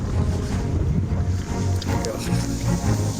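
Strong wind buffeting the microphone in a low, steady roar, with some outdoor rumble and faint voices mixed in.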